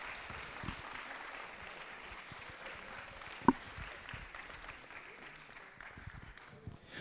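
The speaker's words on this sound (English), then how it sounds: "can we give a round of applause to all the teams" Quiet, distant applause from an audience at an engineering design challenge final, soft scattered clapping in a large room with one sharp knock midway.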